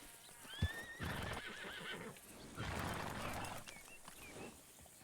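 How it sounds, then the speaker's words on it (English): A horse in a video game whinnies, then its hooves clip-clop in bursts of steady footfalls, with a second fainter neigh near the end. "Get on your horse."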